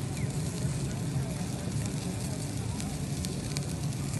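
Chicken and garlic barbecue grills over open fire at a beach in Qatar, giving a continuous dense crackle and sizzle with a steady roar, loud and close, with voices faintly mixed in.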